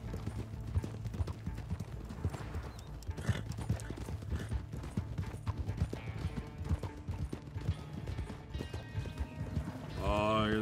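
Steady clip-clop of horse hooves pulling a carriage in Red Dead Online, a rapid rhythmic clatter running throughout, with a horse whinnying near the end and voices talking over it.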